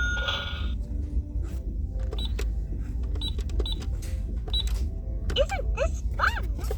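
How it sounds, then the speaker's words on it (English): Disney Junior Mini Boutique toy cash register giving off a series of short electronic beeps and rising chirps, close, over steady background noise. "Here's another Disney Junior Mini Boutique Cash Register."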